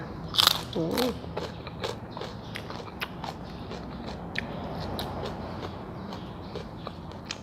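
Crunchy chewing of crispy fried peanuts and pork rinds eaten with Thai canned-fish chili paste and sticky rice, close and steady with a few sharper bites, under light background noise and some talk.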